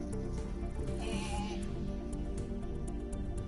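Sheep in a video game bleat repeatedly, their wavering cries layered over a steady background of game sound.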